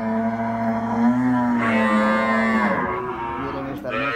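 A cow lets out a long, drawn-out moo with a bending, wavering pitch at a livestock market in Santa Rosa de Lima, loud and near, tapering off as other faint market noise continues.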